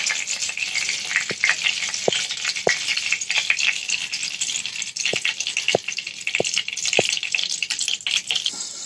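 Fish sizzling and frying in hot oil in a wok, a steady loud crackling hiss with occasional sharp pops, no talking.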